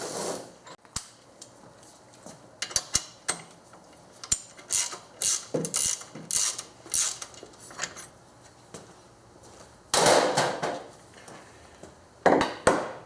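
A ratchet wrench clicks in short irregular bursts while a bolt on a Subaru power steering pump bracket is loosened, with loud metallic clanks and tool handling close by and pauses between strokes.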